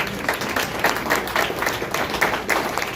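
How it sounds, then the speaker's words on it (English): Applause for first-year delegates at a political town hall, steady dense clapping from the audience filling the room throughout. "Give them a round of applause"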